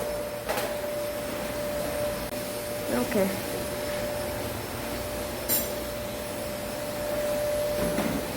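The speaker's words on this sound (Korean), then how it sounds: "청소기를 돌리고" A vacuum cleaner drones steadily while a small gym is cleaned, a constant mid-level hum with brief knocks and a short spoken word over it.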